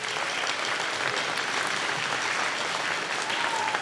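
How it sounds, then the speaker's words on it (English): Sustained applause from the audience at an elementary school beginning band concert, steady and dense for the whole stretch, with no break and no voices standing out. "Let's give them a big round of applause."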